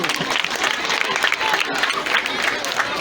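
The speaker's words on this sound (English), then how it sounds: "Let's clap for our little Muslim school." Audience applause with some crowd noise at a school farewell and awards ceremony in Freetown, Sierra Leone, dense steady clapping throughout with a few voices mixed in.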